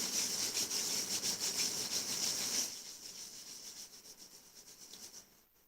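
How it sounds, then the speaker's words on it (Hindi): Hands rubbed together slowly, a soft steady broadband swishing that is fairly close and continuous for the first half, then thins to a quieter, more uneven rubbing with no voices. "धीरे धीरे हाथों को रब करेंगे।"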